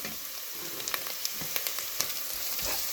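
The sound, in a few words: onions sautéing in a pan for rabbit gravy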